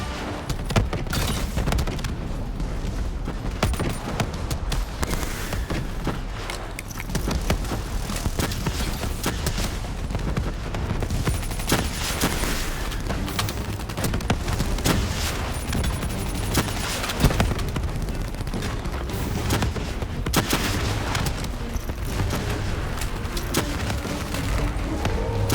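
Dense, continuous gunfire in a Call of Duty Black Ops 3 campaign battle, with rapid overlapping bursts and booms running the whole time under occasional shouted voices.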